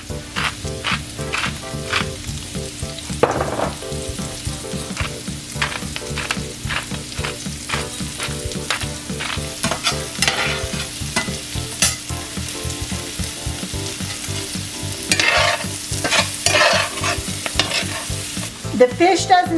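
Brussels sprouts frying on high heat in butter and avocado oil with a little salt and pepper: a steady, loud, close sizzle with crackling pops and occasional stirring scrapes throughout, no talking.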